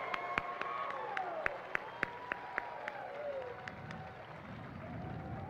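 Scattered applause from the crowd at a Special Olympics Hawaii parade of champions, sparse sharp claps over a steady background hum, fairly faint and thinning out toward the end.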